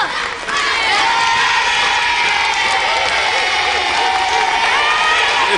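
Loud studio audience cheering and applause for Alistair, a dense continuous roar of clapping with high excited shouts and whoops running throughout.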